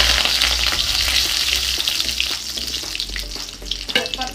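A bay leaf crackles in hot oil for a local Assamese chicken curry, giving a loud, steady close sizzle with bright popping spatters and a few stirring scrapes.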